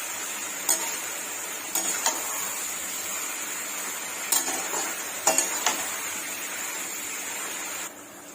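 Spice paste sautéing in a pan for a Bengali offering dish, a steady soft sizzle with a few clear spoon scrapes and clinks against the pan, close and without talking.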